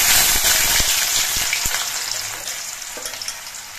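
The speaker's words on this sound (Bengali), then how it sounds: "এবার এর মধ্যে আমি আলুগুলো দিয়ে দিচ্ছি।" Cut potatoes drop into hot oil with fried garam masala for a vegetarian banana-stem dish, giving a loud, steady sizzle that gradually eases, dotted with clicks of stirring.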